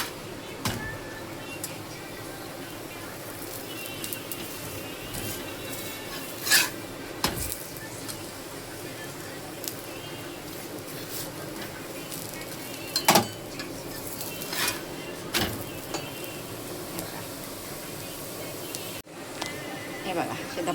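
Dhapate flatbread dough is patted out by hand in a kitchen, soft slaps and pats recurring against a steady background with occasional clinks of pans and utensils, someone talking throughout.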